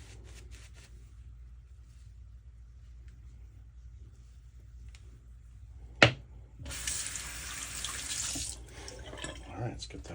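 Tap water runs steadily into a sink to rinse off shaving lather, a broad hiss that starts partway through after a sharp clatter, fairly close and moderately loud, with faint activity around it.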